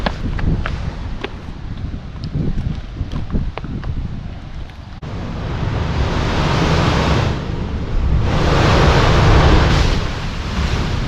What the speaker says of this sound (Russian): Прибойная волна.